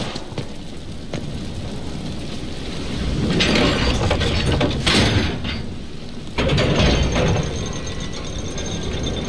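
A lever is pulled in Dragon Age Inquisition, setting off a loud mechanical grinding and ratcheting of gears that swells, pauses, then resumes with a heavy clunk, with no talk.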